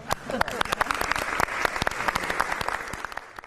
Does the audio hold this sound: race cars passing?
no